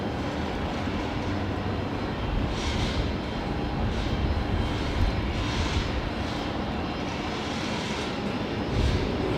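A jet aircraft landing at Brisbane Airport at night makes a continuous loud roar that swells and fades slightly as it passes, with no voices.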